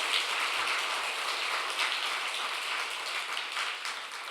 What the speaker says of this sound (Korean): 우리 같이 박수 한번 하면 좋을 것